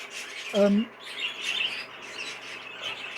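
A cock pigeon gives a short, low cooing blow at close range against a background of other birds' chirps, with no talking.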